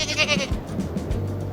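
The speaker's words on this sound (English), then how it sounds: "we've got the little alpine goat" A little alpine goat bleats at a theme park ride in Planet Coaster 2, a couple of short, nasal cries standing alone against a steady low ambient hum.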